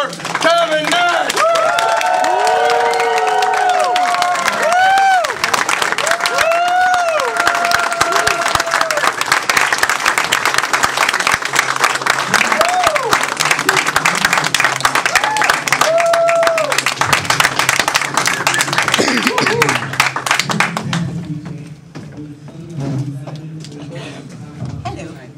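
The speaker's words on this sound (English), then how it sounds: "give you a round of applause for Kevin Nash!" A crowd at a professional wrestling legends appearance bursts into loud, sustained applause with whoops and cheers for Kevin Nash, then fades to scattered noise and voices near the end.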